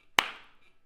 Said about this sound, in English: You can clap the beat, and then you're just going to say the rhythms.